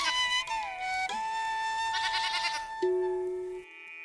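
Cartoon goats bleat in a bright, tonal series of sustained cries, several calls overlapping and shifting in pitch, with no speech.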